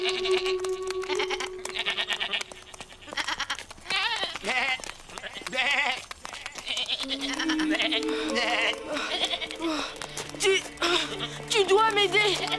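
Goats bleating in a cartoon scene, several high wavering bleats overlapping with background music and a speaking voice throughout.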